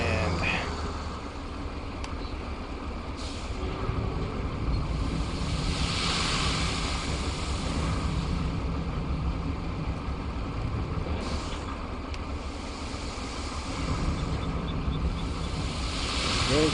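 A truck pours sand in the video game Roadcraft with a continuous, loud, rushing hiss like surf or wind that swells slightly and holds steady throughout.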